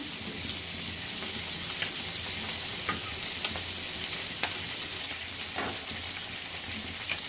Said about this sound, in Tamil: தண்ணி நல்லா கொதி வந்துடுச்சு இப்போ நம்ம அரிசியை சேர்த்துக்கலாம்